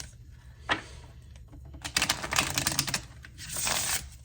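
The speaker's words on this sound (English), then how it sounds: "Shuffle, shuffle, shuffle." Tarot cards riffle and slap together in quick papery bursts, one short shuffle followed by a longer rapid run, close and crisp.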